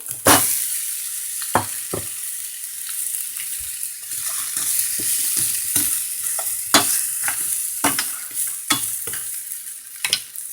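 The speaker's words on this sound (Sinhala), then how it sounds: "මඤ්ඤොක් එකතු කරගමු" Cassava pieces frying in a pan for a curry, giving a steady hiss with sharp clattering stir strikes scattered throughout, close and fairly loud with no talk.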